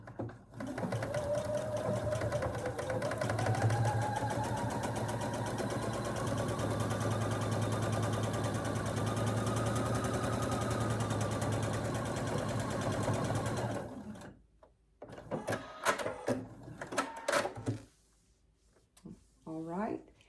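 A sewing machine stitches the lining of a fabric basket in one long, steady whirring run of about fourteen seconds, then stops, leaving clicks and handling noises of the fabric.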